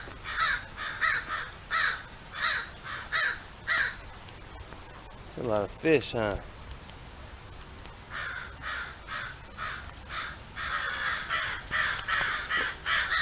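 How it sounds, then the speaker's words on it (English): Several crows caw repeatedly in short bursts around an inner city creek, fairly close and loud, with someone talking briefly in between. "Making all the crows mad."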